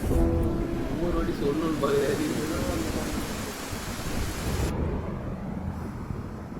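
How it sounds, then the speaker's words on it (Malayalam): Heavy rain roars steadily with wind buffeting the microphone, and a voice is briefly heard near the start. "നല്ല മഴ വരുന്നു"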